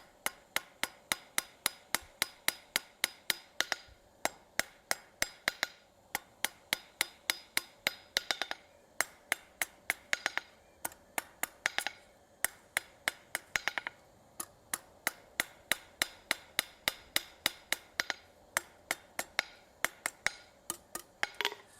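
Rapid, sharp hammer blows ring out on hot steel as a short taper is forged on the end of a long bar, struck in quick bursts with brief pauses between runs of strikes.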